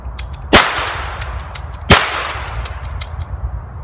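An Ekol Viper 5.6 mm signal revolver fires blanks, giving two sharp, loud cracks about a second and a half apart, each followed by a brief hissing tail, with faint ticking between them.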